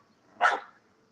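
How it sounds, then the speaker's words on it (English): A single short, sharp bark comes from a neighbor's dog, somewhat distant, against an otherwise quiet background. "That's not her barking. That's the neighbor's dog."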